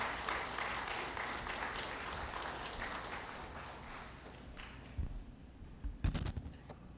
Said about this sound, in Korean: 박수로 맞이해서 함께 해주시길 바랍니다.